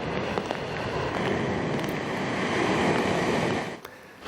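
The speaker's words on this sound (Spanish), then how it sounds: "Estas son las olas batiendo contra el muelle," Waves crash against the pier in San Sebastián during a winter storm, a dense continuous roar of surf with wind, loud and unbroken, with no voices.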